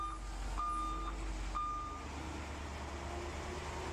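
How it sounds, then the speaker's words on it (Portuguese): A forklift in a video game sounds its reversing alarm, three steady electronic beeps in a slow, even rhythm over a low engine rumble, with no one talking. "o Alex tem pilhadeira"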